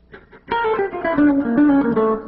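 A plucked guitar line steps downward note by note, a few quiet picked notes first, then sustained ringing tones descending steadily, clear and close.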